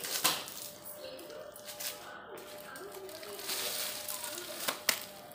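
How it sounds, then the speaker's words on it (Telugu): Water sprinkled onto dry leaves and cow dung packed in a bag for compost, soft uneven splashes and wet squishing with faint rustling, close and quiet throughout. "Then sprinkle the water."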